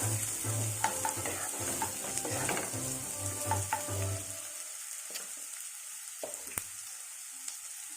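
Chopped carrots sizzle and fry in a hot pan while being stirred, with steady crackling and scraping strokes for about four seconds, then a quieter, sparser sizzle continues alone.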